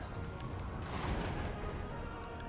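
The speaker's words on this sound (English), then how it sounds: "Woo, that artillery! It is just shredding on me." Artillery fire from a Total War: Warhammer 2 online battle: a steady, dense roar of distant booms and blasts under the general battle din, with faint bright impacts scattered through it.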